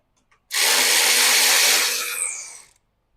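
A power tool whirs loudly as it removes bolts from the radiator fan shroud of a Kawasaki KRX UTV, one sustained close burst of about two seconds that winds down at the end, with no talking over it.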